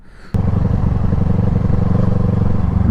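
A motorcycle engine kicks in sharply after a brief quiet start, then holds a loud, steady, close-up rumble with a rough idle-like throb through the rest of the moment.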